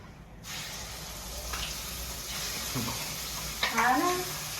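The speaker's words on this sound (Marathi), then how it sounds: "मी ना कढईमध्ये तेल घेतलं तेलामध्ये थोडी मिरची पावडर टाकलीये आणि त्याच्यामध्ये टाकलंय कांदा आणि टोमॅटोची पेस्ट" Onion and tomato paste with chili powder frying in hot oil in a wok, giving a steady close sizzle with a few stirring scrapes and a brief louder spatter near the end.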